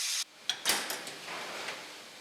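The door of a large rice-steaming cabinet in a military mass kitchen swings open with a couple of close clunks and a light rattle, over a steady background hiss.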